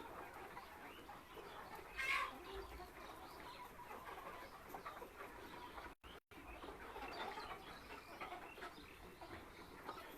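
Seventy-day-old Sonali hybrid chickens cluck faintly at a distance, with one brief, louder call standing out early on.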